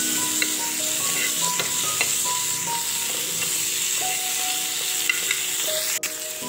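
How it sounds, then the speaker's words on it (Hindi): Mawa (khoya) fries in a pan on the gas, giving a continuous close sizzle and hiss with occasional scrapes and taps of a spoon stirring through it, steady throughout with no voices. "और अब इसको भी थोड़ा सा फ्राई कर लेंगे।"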